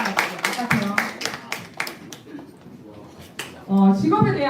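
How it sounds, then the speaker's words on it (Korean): An audience at a high school anniversary event applauds to welcome alumni guests, a burst of clapping that thins out over a couple of seconds before a voice speaks. "따뜻한 박수로 맞이해 주시기 바랍니다"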